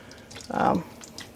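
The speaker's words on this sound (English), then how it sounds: "Oops, making a splash. And dunking them a few times." Skeins of yarn are dunked into a container of dye water, making a single short, close watery splash and slosh with quiet room tone around it.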